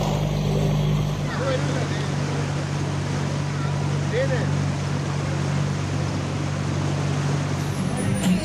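Tourist boat engine running out on Ashtamudi lake in Kerala, a steady low drone with a constant rumbling hum throughout, close and loud, under wind and water wash, with no voices.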